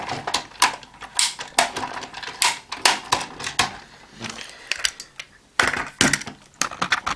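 Plastic parts of a Bakuryu Gattai DX MaxOhja toy click, snap and rattle as they are folded and handled close up, in quick irregular bursts with short pauses.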